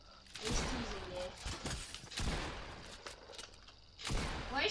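Fortnite shotgun blasts land as several sharp, heavy booms spaced a second or so apart, mixed with game effects and players talking quietly in between.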